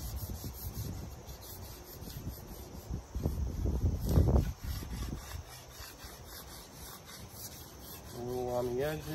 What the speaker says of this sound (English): I'm going to remove some material with the card scraper.